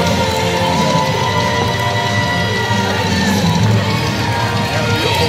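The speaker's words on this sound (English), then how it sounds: "And this crowd goes wild." Spectators at a live sword-fighting wrestling show erupt in cheers as the winner raises a sword overhead, a loud, sustained roar of shouts and whoops from a close crowd.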